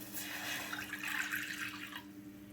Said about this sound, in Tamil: அதனால் இதில் ஒரு முக்கால் தண்ணி ஊற்றினா போதும்